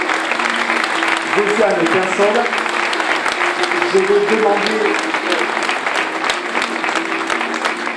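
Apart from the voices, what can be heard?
audience applauding at a medal ceremony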